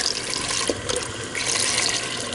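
Beef broth poured from a carton into a cooking pot for a sweet potato beef stew, a steady, continuous splashing gush of liquid that runs without a break, close and fairly loud.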